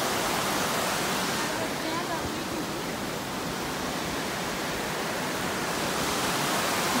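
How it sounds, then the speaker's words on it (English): A river pours over a small dam at Pattison State Park in Wisconsin, making a loud, unbroken rushing roar of water that holds steady from start to finish. "Here's the beginning of the river."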